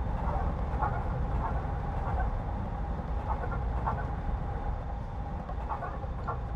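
Southern Pacific GS-4 steam locomotive hauling a long train in Train Simulator 2017, giving a steady, loud rolling rumble with faint rhythmic clanks repeating throughout, with no voices.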